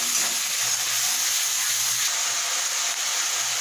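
Poppy seeds frying in a pan give a continuous, even sizzling hiss that stays close and steady throughout, with no voices.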